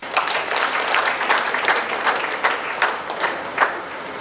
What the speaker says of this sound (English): I wish all of you a joyful and grace-filled centenary celebration of Bethany congregation with a round of applause.